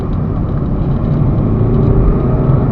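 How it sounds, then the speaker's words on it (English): A 2007 Lexus IS 2.2 diesel pulls away, heard as a steady, close engine drone with road rumble, loud and continuous without talk. "even though it's a diesel, it does seem to be able to pull away nicely"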